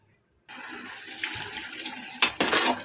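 Water poured off partly cooked rice for chicken dum biryani, a steady splashing stream starting abruptly after a short silence and continuing close by, with a couple of louder gushes near the end.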